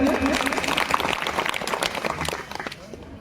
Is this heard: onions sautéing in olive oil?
no